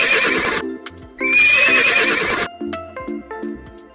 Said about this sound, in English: The sound of horse.